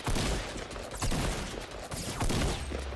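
Fortnite gunshots crack in loud, dense volleys of clustered blasts, coming in several heavy bursts close together with no talk.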